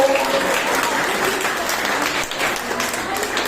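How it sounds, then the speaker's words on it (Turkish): Audience applause at a summer science, engineering and technology camp certificate ceremony, a steady wash of many hands clapping that carries on evenly throughout, with faint crowd murmur mixed in. "Siz de lütfen kendinizi alkışlayın."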